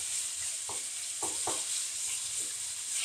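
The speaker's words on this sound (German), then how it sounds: "Also mal anbraten" Zucchini and onions searing in a hot pan while making linguine with chicken in balsamic, a steady close sizzle with a few brief stirring scrapes on top.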